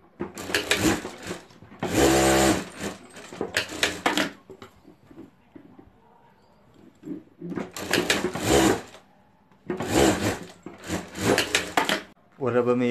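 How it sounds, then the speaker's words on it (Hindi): A home sewing machine stitches fabric for a DIY sling bag in several loud bursts of rapid mechanical whirring, separated by pauses in which someone speaks. "और अब हमें यहाँ सिलाई कर देनी है।"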